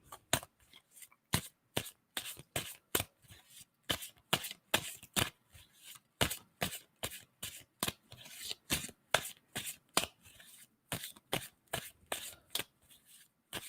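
A deck of tarot cards is shuffled again and again, each pass a quick crisp riffling burst in a steady repeating rhythm, close up with no voices.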